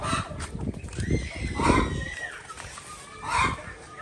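Turkeys and chickens being shut in a coop for the evening, clucking and calling close by in overlapping bursts, with a louder drawn-out squawk partway through and a person's voice faintly underneath.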